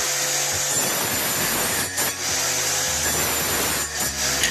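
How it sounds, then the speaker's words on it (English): An electric grinding machine running with a loud, steady, abrasive whirring roar that dips briefly twice before carrying on. "Grinding machine."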